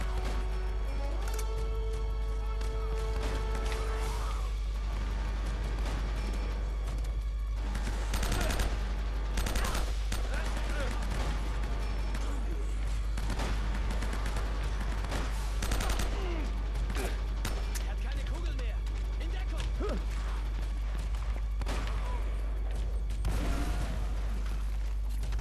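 Dense gunfire pours in from every direction in the Uncharted: Drake's Fortune video game, with sustained machine-gun bursts and scattered shots layered into a loud, continuous barrage that runs throughout.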